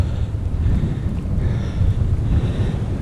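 Strong wind buffets the microphone during a bike ride, a continuous loud low rumble with gusty swells and no let-up.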